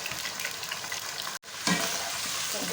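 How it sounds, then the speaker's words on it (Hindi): A kilogram of chicken fries in a pan with a dense, close sizzle, broken by a brief dropout midway before the crackling resumes, with light stirring noises. "मैं इसको अच्छी तरह से फ्राई करूँगी"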